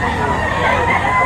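A rooster crows at the Lipa, Batangas poultry market: one sustained, strained call set close against a dense market hubbub.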